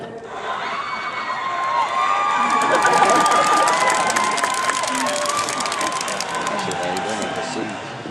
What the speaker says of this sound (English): Sounds like the audience really likes them all.